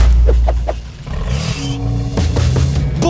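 A Mercedes G63 Brabus 4x4 on an off-road terrain, its engine rumbling loud and close with a short rev and deep low growl, a few clattering knocks at the start.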